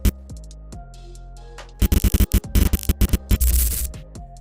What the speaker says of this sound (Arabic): طيب عندنا أصوات الجليتش، جليتش ساوند افكت.